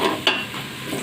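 Onions frying in a pan, half browned, ahead of beef for nehari: a brief close sizzle with a sharp stirring scrape partway through, no talking.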